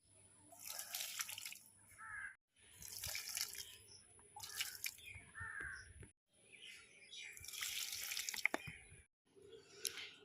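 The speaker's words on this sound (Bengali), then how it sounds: "তো সব গাছে জল দিয়ে দিচ্ছি" Water poured onto potted plants on a balcony, splashing and trickling in several separate bursts with short silent gaps, fairly close, and crows cawing faintly now and then.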